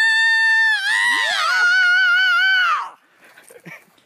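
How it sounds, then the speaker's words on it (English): A person lets out a loud, sustained scream with wavering pitch for about three seconds during a rowdy live broadcast, then cuts off into quieter background noise and faint voices. "Do a little scream for us."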